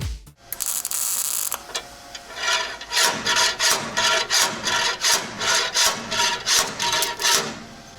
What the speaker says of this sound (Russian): используем такой советский обратный молоток из гири